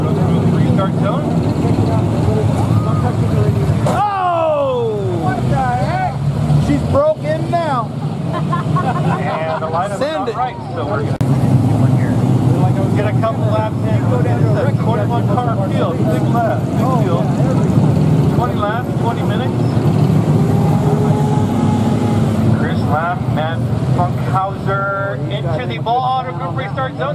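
Pure stock race cars roar around the Barona Speedway oval, their engines droning and sweeping past loudly and continuously, with a track announcer talking over the racing.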